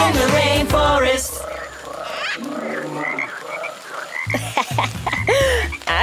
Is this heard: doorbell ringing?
no